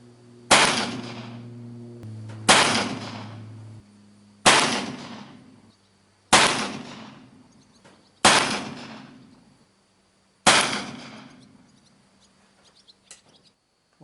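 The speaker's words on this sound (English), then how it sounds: "we're again shooting out 230 grain Lee bullets." Six loud, sharp shots ring out about two seconds apart from an Uberti Walker revolver fitted with a conversion cylinder and firing 230 grain Lee bullets, each blast trailing off into a short echo.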